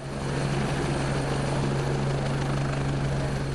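A helicopter on an emergency medical demonstration, its rotor and engine droning loudly and steadily with a strong low hum, close by and alone throughout.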